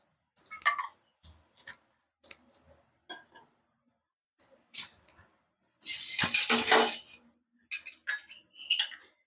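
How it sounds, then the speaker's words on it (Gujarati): A kadai is set on a gas stove and oil is added for spring rolls: sparse clicks and light metallic clatter, then a louder burst of scraping and clanking, followed by a few more sharp ticks. "તો ગેસ ચાલુ કરશું આ કડાઈ મૂકશું એમ એમાં આપણે તેલ નાખશું બે ત્રણ ચમચી જેટલું"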